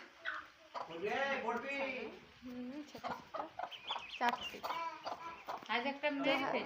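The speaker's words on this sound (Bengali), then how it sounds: "আমাদের হাঁসের ছানা" Ducklings peep and chirp near a staircase, high and busy, mixed in with steady talking voices throughout.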